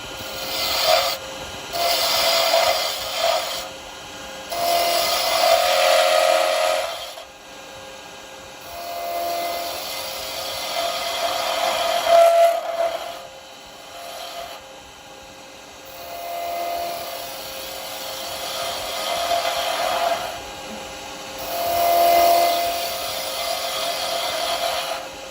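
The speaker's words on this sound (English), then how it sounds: "just coming with a round chisel" A round chisel cutting a wooden Christmas tree spinning on a lathe, a rasping, rubbing whine in repeated bursts of a few seconds each, close and loud, with short pauses between cuts.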